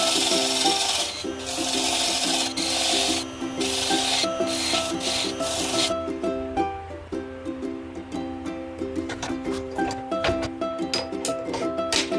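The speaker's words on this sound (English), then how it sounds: "We will start the hollowing process." Wood is hollowed out of a turned bowl on a lathe, with a loud, steady scraping rasp of the cutting tool against the spinning wood. Later it gives way to lighter, intermittent scrapes and taps.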